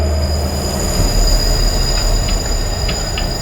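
A train rolls through in the video game Here They Lie, with a loud, continuous rumble and high steady wheel squeal, plus faint clicks, no talk.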